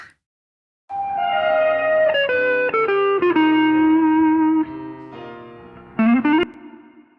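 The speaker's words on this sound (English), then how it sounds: "Let's add a little bit of reverb." Electric guitar played through reverb, a melodic line of sustained notes sliding downward with a few quick accents, the tail ringing out with ambient wash; loud and alone, no talking.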